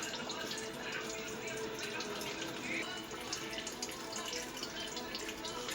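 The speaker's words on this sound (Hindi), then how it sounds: "ये इसके अंदर ये पानी जा रहा है, रुक नहीं रहा।" Water runs steadily into a Sharp fully automatic washing machine, model ES-Q93FSA, filling it with a continuous close hiss at moderate level while someone speaks over it.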